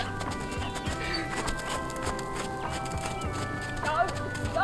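A horse's hooves clip-clop in a steady rhythm as it moves from a walk up to a canter, fairly close, with a rider's voice talking over the footfalls.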